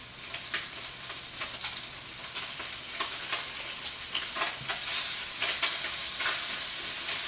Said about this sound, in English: And then you just kind of flip it over, stir it around, maneuver it around.